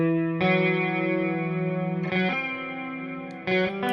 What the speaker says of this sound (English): My favorite clean tone is the SS11X, basically on the stock cab, second cab, and then just cut the bass a little.